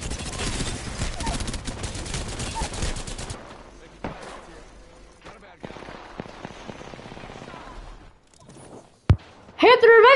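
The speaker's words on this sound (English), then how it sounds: "Shots fired, and they're hitting me." Apex Legends gunfire, dense rapid automatic bursts rattling loudly for a few seconds, then sparser shots and impacts trailing off, with a sharp crack near the end and a voice talking over it.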